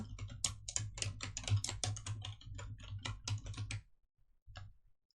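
Rapid typing on a computer keyboard while entering text in a PowerPoint document, a dense run of close key clicks for about four seconds, then a pause and a short final burst.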